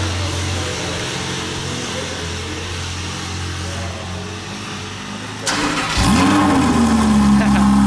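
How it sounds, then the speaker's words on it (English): An orange Lamborghini Huracan Spyder starts up partway through after a stretch of low background murmur, then holds a loud, close, sustained rev to the end. "now we're going to go back and hear the Huracan, the orange corner"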